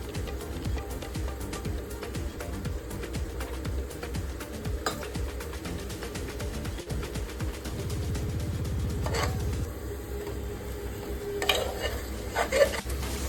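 Yogurt sautéing in oil for chicken biryani, a steady low sizzle with occasional scrapes and stirring clinks of a spoon against the pot, continuous throughout.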